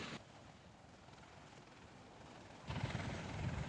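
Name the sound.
MV-22 Osprey tiltrotor aircraft flying at airshow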